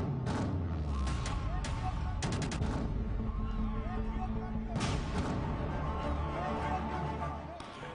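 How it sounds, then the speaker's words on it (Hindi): Controlled explosive charges bring down an 85-metre concrete cooling tower at the Utran power station in Surat, Gujarat, in a series of sharp blasts, then a long rumbling collapse, with a voice talking over it. "नियंत्रित विस्फोटक की मदद से टावर को गिराया गया।"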